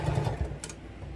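A sewing machine stitching a quilt seam in a brief, quick run of close, rhythmic mechanical ticking and whirring.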